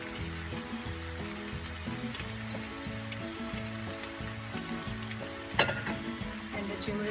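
Grated carrot and green beans fry with chili-spiced tofu in a pan for fried rice, giving a steady close sizzle with a brief louder clatter near the end, all over a rhythmic background music track.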